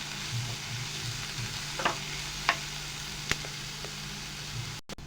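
Bitter gourd stir-fried in a pan, a faint steady sizzle with a few soft scrapes and clinks of the spatula against the pan, quiet and close with no voices.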